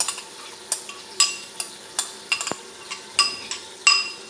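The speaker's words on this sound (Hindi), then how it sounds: "अब इसमें हम दही डाल रहे हैं" Yogurt is stirred into mutton frying in a pot, heard as a run of about ten brisk, regular spoon scrapes and clinks against the metal, with a faint sizzle underneath.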